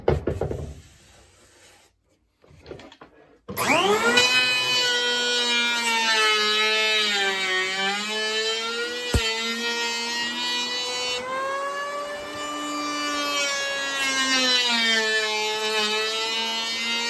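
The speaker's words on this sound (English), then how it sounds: "Now you can see the planer did the bulk of the work" An electric planer shaves down a raised wooden edge during floor framing, its steady motor whine running loud and close for most of the stretch after a short quiet start, with no talking.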